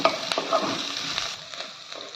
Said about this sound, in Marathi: बघा परतला गेला आहे कांदा